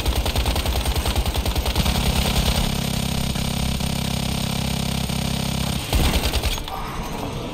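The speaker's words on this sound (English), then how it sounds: "He's gonna be shooting his Gatling gun" A Gatling gun rattles in a video game firefight, a loud, continuous stream of rapid shots that runs for several seconds, joined by a low steady hum, then cuts off abruptly near the end.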